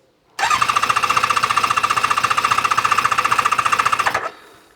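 A Kawasaki ZZR600 motorcycle engine under restoration fires and runs with a steady rapid pulsing idle, loud and close, for about four seconds before cutting out abruptly.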